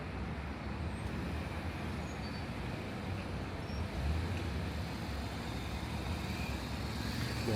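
A Chevrolet Corvette rolls in to park on a Dubai street, its engine a low steady rumble blending with continuous road traffic noise, fairly even in level throughout.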